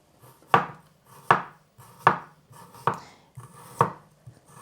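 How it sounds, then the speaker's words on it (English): A knife chopping ginger into julienne on a cutting board, five sharp, well-spaced thuds in a slow, even rhythm, close and clear against a quiet kitchen. "I cut the ginger."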